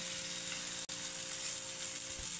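Grated potato pancake batter for Korean gamjajeon fries in cooking oil with a steady, bright hiss and dense crackle, close and constant with a brief dip partway through.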